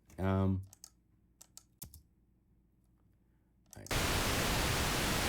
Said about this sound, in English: This is a more low frequency intense noise.